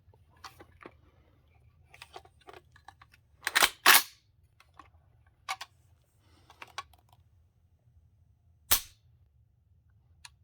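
Sharp, dry mechanical clicks come from working the trigger of a Norinco MAK-90 Sporter rifle: a few isolated snaps spaced seconds apart, close and crisp, among faint handling ticks in a quiet room.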